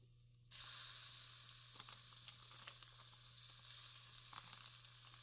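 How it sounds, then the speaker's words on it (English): Raw ground turkey hitting a hot pot with scallions and peppers, a sudden loud sizzle that settles into a steady close frying hiss over a low hum, no talking. "we're just going to add that raw turkey to the pot with the scallions and peppers here"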